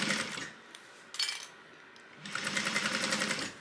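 A sewing machine stitches fabric in close, buzzing bursts: one at the start, a brief second run, and a longer steady stretch at the end, with quiet pauses between and no voices.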